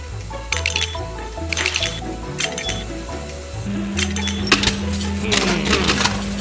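Glass bottles clinking in water as they are pushed up and drop into a LEGO Technic mill machine, sharp bright clinks and splashy drips over a rhythmic pulsing motor hum and background music.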